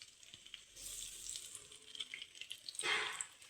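Spices with turmeric powder and salt fry in a pan, a soft steady sizzle with light stirring scrapes and a louder burst of hiss near the end.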